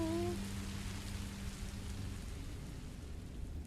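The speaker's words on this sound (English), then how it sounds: "I didn't know it would rain." Rain falling in the Minecraft: Story Mode video game, a steady, soft hiss of downpour running throughout at low level, with a few brief tones at the very start.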